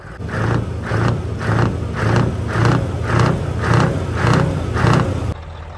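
A Scania truck's V8 engine is blipped repeatedly, giving about ten evenly spaced loud revs with a deep exhaust roar that rises and falls before cutting off.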